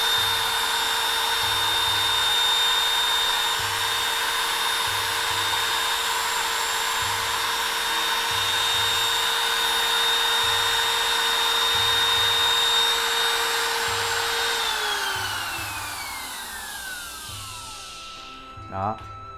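Japanese-made Ryobi model 383 power tool whirring steadily at high speed for about fifteen seconds, then winding down with a falling pitch and stopping, ending with a faint click; a low rhythmic knocking runs beneath.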